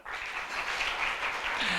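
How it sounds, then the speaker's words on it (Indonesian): An audience at a Christmas celebration claps for the dancers, a continuous, even wash of applause with no pauses. "Mungkin ada yang mau tepuk tangan buat para penari juga boleh."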